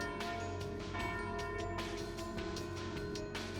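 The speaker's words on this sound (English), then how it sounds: "Ah, and there's the noon bell." A town bell tolls for noon in the video game Trails through Daybreak, a steady run of bright metallic strikes ringing over soft background music, with no voices.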